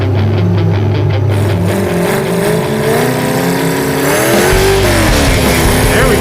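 Loud hot rod car engine rated at 250 horsepower accelerating hard, its pitch climbing steadily through the gears in a continuous close-up roar with no pause.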